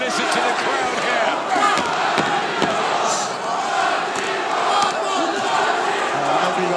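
A packed boxing arena crowd roars and cheers going into the final round of a tight title fight, a dense, sustained wall of voices with shouts and sharp peaks.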